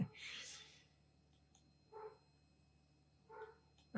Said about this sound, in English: And my dog's freaking out.